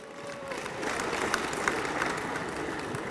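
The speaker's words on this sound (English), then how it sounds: "Let's give her a round of applause." An audience at an award ceremony applauds, a steady wash of many hands clapping at moderate distance that swells slightly and holds throughout.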